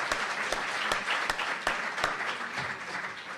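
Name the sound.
audience applause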